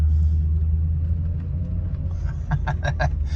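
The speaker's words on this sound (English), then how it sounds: "That tire though, it's like driving on a square wheel." A cheap Ford Super Duty truck, its wheel previously locking up and its tire badly out of round, rolls along with a heavy continuous low rumble, close and loud, with a few rhythmic thumps near the end.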